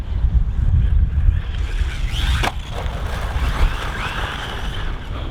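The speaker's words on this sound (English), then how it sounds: "It's so windy." Strong gusts buffet the microphone in a low, rumbling roar that stays loud throughout, with a brief sharp crack midway. The wind is blowing around a radio-controlled RLAARLO AM-X12B car running on a 3S LiPo.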